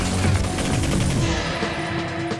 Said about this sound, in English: see just how hilariously effective the assault rifle is